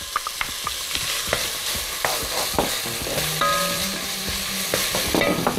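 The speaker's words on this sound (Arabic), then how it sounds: "نشوحه كده شوية لما لونها يبقى ذهبي وجميل" Minced onion sautés in a pan until golden, with a continuous sizzle broken by sharp scraping and clicking as a spoon stirs it repeatedly.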